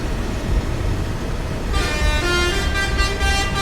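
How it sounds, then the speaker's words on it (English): Air horns blast at a tractor Christmas convoy at dusk: after a steady rumble of engines, loud sustained horn tones break in and hold for the last couple of seconds, layered over the continuous vehicle noise. "starting to liven up here. Air horns going off."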